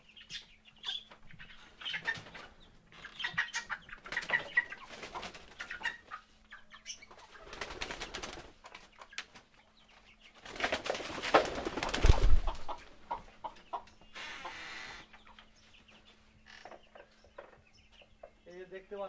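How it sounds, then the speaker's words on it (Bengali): Chickens and pigeons share a small backyard coop, with hens housed below and pigeons above. Scattered coos, clucks and wing flaps come and go, with bursts of close flapping, while someone talks over much of it. "আপনার কবুতর আছে এখানে, পাশাপাশি নিচে মুরগি থাকছে, উপরে কবুতর"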